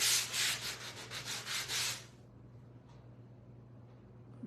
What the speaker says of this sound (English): Let me sand this.